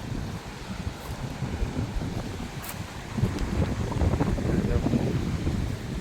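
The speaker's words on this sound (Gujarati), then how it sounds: "દરિયો એકદમ તોફાની છે," Stormy sea on a windy coast, with a loud rushing roar of wind buffeting the microphone and waves churning underneath, swelling stronger in the second half.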